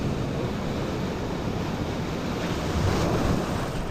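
Ocean waves break continuously at La Zurriola beach in San Sebastian, a loud broadband surf roar with wind buffeting the microphone and a slight swell near the end.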